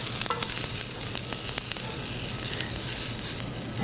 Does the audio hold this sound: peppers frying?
yes